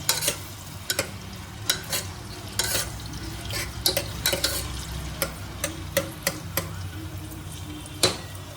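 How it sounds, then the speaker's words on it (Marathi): Onion sautéing in a pan for a spicy Malvani mutton rassa is stirred with sharp scraping taps at an irregular rhythm over a low steady sizzle, close and with no voices. "परतून घेऊया कांदा."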